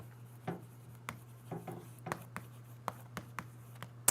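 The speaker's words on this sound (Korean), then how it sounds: "제가 이거 문장만 써볼게요." A sentence written on a classroom board, quiet scratchy strokes and sharp taps of the marker or chalk coming in irregular bursts, close and faint over a steady low hum.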